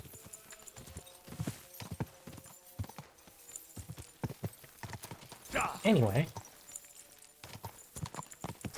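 Horse hooves clip-clopping in a medieval open-world video game, an uneven trot heard faintly beneath someone talking, with a brief louder snort or whinny near the end.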